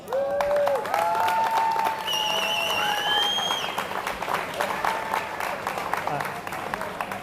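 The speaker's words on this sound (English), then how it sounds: "I want to give a huge round of applause and shout out to Core Climbing for hosting us" A crowd at a youth bouldering championship final applauds and cheers the Core Climbing hosts, the clapping dense and steady with whoops and whistles rising over it before easing off toward the end.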